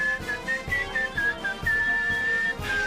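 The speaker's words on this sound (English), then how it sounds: "Tim is whistling with the music." A person whistles a wavering melody over rhythmic background music with a steady beat, the whistle clear and fairly close.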